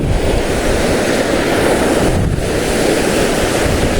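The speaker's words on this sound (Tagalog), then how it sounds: "yung mga malalaking alon." Big ocean waves break on a rocky shore at a shore-casting fishing spot in Real, Quezon, giving a loud, continuous roaring wash mixed with heavy wind buffeting the microphone, with no talk.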